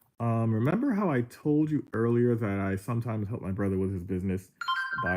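A phone starts ringing with a brief, bright electronic tone at the very end, right after a stretch of close, steady talking.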